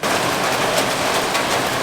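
Steady heavy rain falling outdoors around a home, filling collection containers with rainwater; a dense, loud, continuous hiss of drops with no voices.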